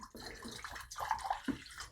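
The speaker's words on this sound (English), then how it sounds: "We'll pour off a little bit of our water" Filtered water is poured off for date wine, a faint, uneven splashing and trickling with a few small drips over two seconds.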